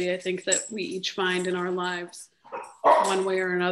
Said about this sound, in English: My apologies for the dog.